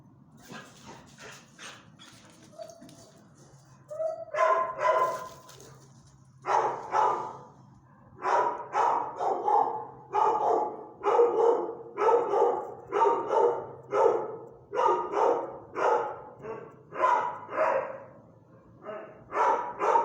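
A shelter dog in a kennel barks repeatedly and close by, about a dozen sharp barks in an uneven rhythm after a few quiet seconds.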